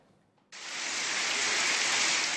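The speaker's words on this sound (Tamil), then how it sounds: "கோவை, மதுரை, திருப்பத்தூர், திருவள்ளூர் உள்ளிட்ட மாவட்டங்களில் பரவலாக மழை பெய்தது." Heavy rain in Tamil Nadu starts suddenly after a half-second of near quiet. It becomes a loud, steady hiss of downpour that keeps going on its own.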